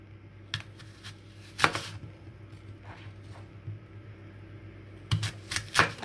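A larger knife cuts around the cores of peeled apples in a quiet kitchen, giving a few separate soft crunching and scraping strokes with pauses between them.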